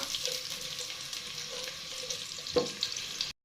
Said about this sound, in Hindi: और ये जो प्याज काट के रखी है वो भी डालेंगे इसके अंदर। इसमें अब इसे ब्राउन करेंगे।